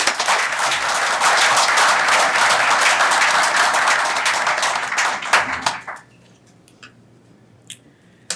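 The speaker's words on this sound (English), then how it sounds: "Please join me in a round of applause for all of them." Steady round of applause from the audience at a township committee reorganization meeting in Hillsborough, dense and loud for about six seconds before thinning into a few scattered claps and quiet room noise.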